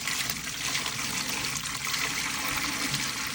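Water being dumped out while a Fluval Flex 32.5-gallon saltwater aquarium is set up, a steady close pouring and splashing rush with no talking.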